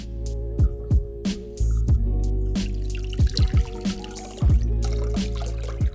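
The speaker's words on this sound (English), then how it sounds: "you can strain them out and give them a rinse with clean water" Water splashes and trickles in bursts, like items being rinsed under running water, with intermittent drips and pours close by.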